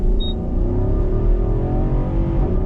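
A 2021 Nissan Armada SUV accelerates hard, its engine droning loud and steady from inside the cabin with the pitch climbing gradually.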